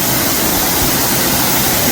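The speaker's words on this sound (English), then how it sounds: "The rest of the waterfall comes out the front here." Close and loud, a waterfall in a downtown city park makes a dense, steady rush of falling water with no pauses.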